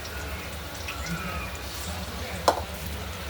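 Crispy street-style onion bhaji, made without water, sizzles softly in hot oil with a steady low crackle and one sharp tap partway through.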